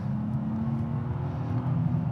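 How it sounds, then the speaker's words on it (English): A Nissan Z sports car's engine drones steadily from the cabin under acceleration on a twisty mountain road, a constant low rumble that builds slightly toward the end, with no talk. "So I've been wanting to drive the Nissan Z."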